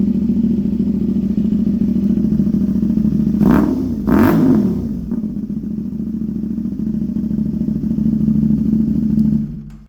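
A loud CFMoto 450SS motorcycle engine idles close by, with two sharp revs early on before settling back into a steady, throbbing rumble.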